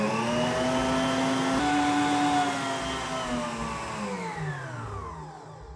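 An electric hand mixer beats olive oil and milk together, a steady motor whine that drifts slowly downward in pitch as the liquid thickens, running continuously with no talking.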